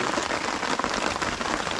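Rain falls in the forest as a dense, even patter and hiss on surfaces around, steady and moderately loud throughout the brief stretch with no voices.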